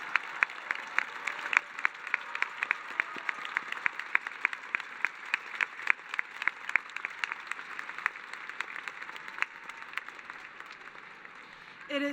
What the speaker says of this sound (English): Please give our academic honorees a huge round of applause.